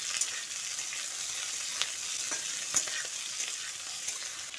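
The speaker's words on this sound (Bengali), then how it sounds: "পেঁয়াজটা দিয়ে আলু ও বরবটির সঙ্গে আরও খানিকক্ষণ ভেজে নিচ্ছি।" Onion frying in a pan with potatoes and yardlong beans, a steady close sizzle broken by a few sharp clicks and scrapes of stirring, with no voices.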